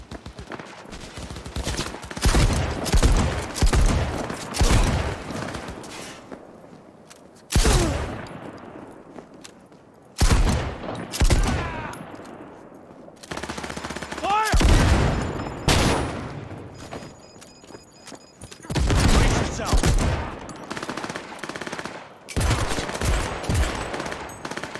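Gunfire in Cyberpunk 2077 rings out in repeated loud bursts and single sharp shots, with short gaps between volleys and a few quieter stretches of movement.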